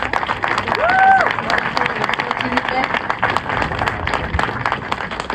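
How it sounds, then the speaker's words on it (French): An audience at a Miss CI France 2026 pageant applauds the candidates, with dense clapping mixed with crowd noise and brief cheering or whistle-like calls. "Est-ce qu'on peut encore les applaudir?"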